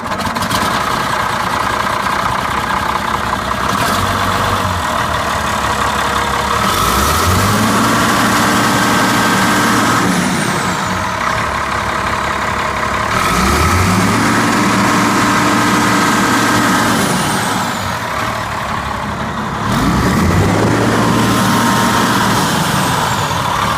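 A Komatsu WA250 wheel loader's diesel engine runs steadily at close range, with a loud continuous rumble and periodic rising and falling revs about every six seconds, plus faint hiss.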